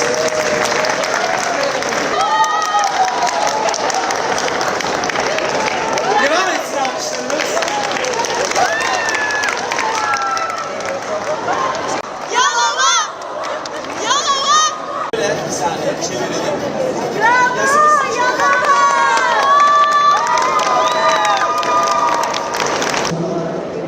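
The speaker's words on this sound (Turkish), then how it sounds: "Alkışlıyoruz." Award ceremony crowd at the Housekeeping Olympics in Antalya applauding and cheering, with sustained clapping, scattered whoops and crowd chatter, and music and voices rising and falling across the long stretch.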